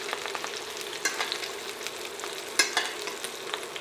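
A ribeye steak sizzles and crackles steadily in a hot pan while being basted with butter, garlic, thyme and rosemary, with occasional louder spits and pops and no talking.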